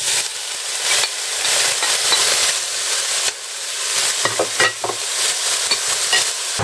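Food fries in 2 spoons of olive oil or clarified butter in a heated pan for a loud, steady hiss, broken by stirring scrapes and clacks near the middle and end.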